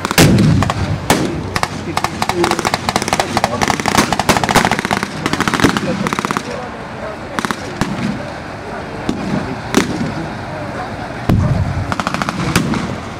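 Repeated sharp explosions and bursts of gunfire at a WWII battle reenactment crack out irregularly, some close and loud, with voices shouting in between.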